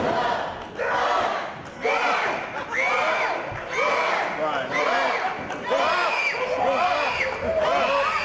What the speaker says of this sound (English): Crowd making it known who they are behind tonight.